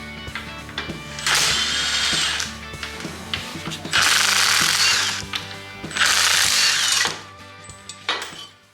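A power tool unbolting a pulley plate from a John Deere 200 series lawn tractor, with three loud sustained whirring runs between clanks and handling noises, close up and without talk.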